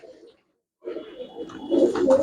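Pigeons at a Punjabi pigeon keeper's sale coo in low, throaty bursts, a short phrase first, then a pause, then steadier overlapping cooing that grows louder and close by.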